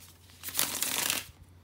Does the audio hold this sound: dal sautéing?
no